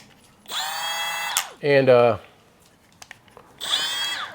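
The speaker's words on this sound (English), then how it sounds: "This is the hot new Milwaukee die grinder." New Milwaukee die grinder running in short bursts, a loud high-pitched electric whine that spins up and winds down, with a lower-pitched motor burst in between, close to the listener; a voice briefly speaks.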